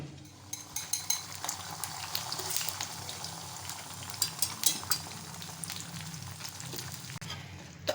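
Shredded cabbage cooks in a covered pan, sending out a soft continuous sizzle with scattered pops and crackles, fairly quiet and steady.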